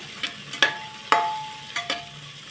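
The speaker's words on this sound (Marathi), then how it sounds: "छोटंच टॅमॅटो होतं जास्त मोठं पण नाही आता हे थोडं परतून घेऊया" Chopped tomato being stirred in a pan for mung dal khichdi, with a few sharp scraping clicks of a spoon against the metal over a faint low sizzle, close and fairly quiet, no voices.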